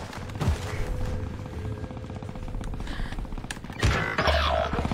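Rapid gunfire in a video game, a dense stream of automatic shots with sharper bursts near the start and end, loud and close with game effects around it.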